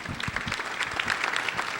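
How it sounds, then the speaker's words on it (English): Steady audience applause at a grand opening, a dense patter of many hands clapping at moderate volume, continuous throughout with no voices over it. "I know all of you will join me in applauding the efforts of those young people that are here today"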